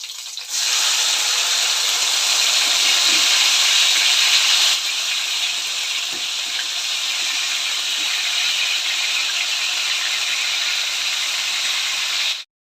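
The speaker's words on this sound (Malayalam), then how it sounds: "ഇനി ഇതിലോട്ട് നമ്മൾ എടുത്ത് വെച്ചിട്ടുള്ള പടുവളങ്ങി ഉണ്ടല്ലോ അതിങ്ങനെ ഇട്ട് കൊടുക്കാം." Snake gourd dropped into hot coconut oil in a pan produces a loud, steady hiss that bursts in, then settles slightly softer and continues evenly for about twelve seconds before cutting off.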